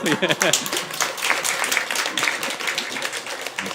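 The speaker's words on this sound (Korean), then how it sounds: "우리 박수로" A church congregation claps at a praise gathering, a brisk patter of many hands that starts strong and gradually thins. Voices murmur underneath.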